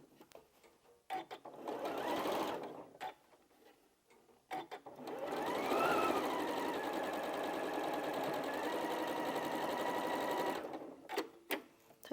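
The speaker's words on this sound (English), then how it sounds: "So we're going to take those to the machine. I'm going to do another 1/4 of an inch seam on both of those." Sewing machine running a quarter-inch seam while piecing a spools quilt block: a few short bursts of stitching at first, then one long steady run of fast mechanical whirring and tapping, close and clear, stopping near the end.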